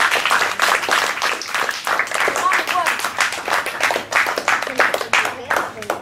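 Students in a music class at a cultural centre's music school clap together in a lively, sustained round of applause, close and fairly loud, with voices mixed in throughout.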